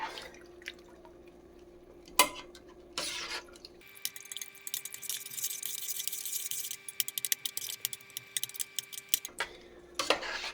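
Homemade chili stirred in a pot, a run of quick wet clinks and scrapes of a spoon against the pot that grows busier toward the end, framed by short bursts of louder scraping near the start and finish, close and alone.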